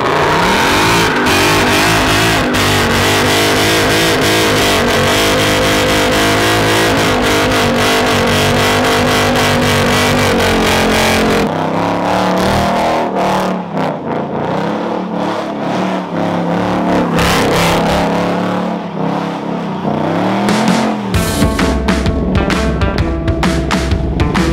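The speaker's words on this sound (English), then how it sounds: "we obviously have to smoke the tires off a little bit" A drift car does a line-lock burnout, its engine held at a loud sustained high rev with roaring exhaust and screeching spinning tires, then dropping off and surging again near the end.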